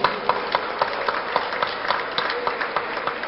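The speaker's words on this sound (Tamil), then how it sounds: "அதுக்கு அவங்களுக்கு பெரிய கைத்தட்டல் கொடுக்கணும்" Audience members at a charity promo event clap together, with sharp, regularly spaced hand claps standing out over a steady background of applause at moderate loudness.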